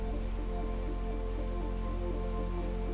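Artificial indoor rain pours steadily in the Rain Room installation at MoMA, a dense continuous hiss of falling water with no voices, even and close throughout.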